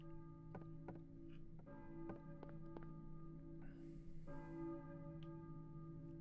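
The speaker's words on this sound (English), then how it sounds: "I hear a church bell, maybe." A church bell rings in the video game Silent Hill 1, with repeated clear metallic strikes and long sustained ringing tones layered under a low ambient drone, moderately quiet and steady.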